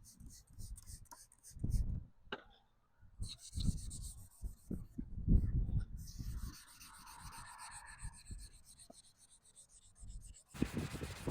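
Close, uneven rubbing and scraping of hand-sanding a Mercedes headlight with a Nasiol restorer kit, strokes starting and stopping irregularly, with occasional bumps and handling noises.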